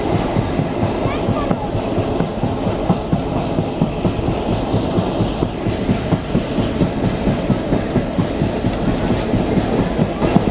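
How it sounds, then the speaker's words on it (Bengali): A Mongla commuter train travels fast, its wheels clattering rhythmically over the rails with a constant rumbling roar throughout. "আমাদের মোংলা কমিউটার ট্রেন বেশ ভালো স্পিডে যাচ্ছে"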